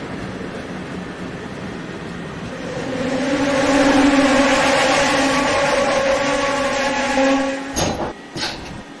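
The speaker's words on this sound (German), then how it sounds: "der obligatorische Sound der Dostos" A double-deck passenger train running in Train Simulator 2021: a steady rumble with a rising electric whine that swells and holds, then fades, followed by a few sharp clicks and knocks near the end.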